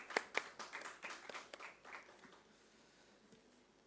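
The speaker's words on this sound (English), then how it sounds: "Can we have a big round of applause?" Audience applause at an international academic conference, a few sharp claps at first swelling into scattered clapping that thins and fades away, faint and somewhat distant, with no speech.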